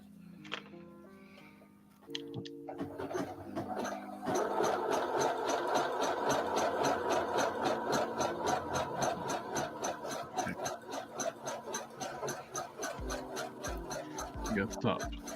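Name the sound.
sewing machine sewing action figure clothing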